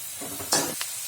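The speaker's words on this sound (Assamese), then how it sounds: "আটাইখিনি মই আৰু অলপ সময় ভাজি ল'ম" Masala sizzles in a pan while frying for an Assamese brinjal fish curry, with scraping stirs and a sharp burst of sizzle midway, then a second brief flare.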